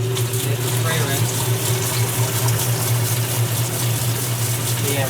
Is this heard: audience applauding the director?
no